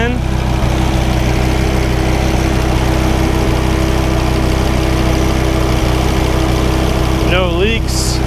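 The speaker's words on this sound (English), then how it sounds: "Here's our Dodge V10." 2003 Dodge Viper SRT10 V10 engine idling in the open engine bay: a loud, steady, low rumbling idle with an even hum, and a brief voice-like sound near the end.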